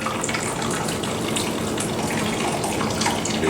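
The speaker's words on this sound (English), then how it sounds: "Next, we add 1 cup hot water. Boiling hot, very hot." Boiling hot water poured into a cup, a steady close splashing gush that runs continuously for a few seconds with no talk over it.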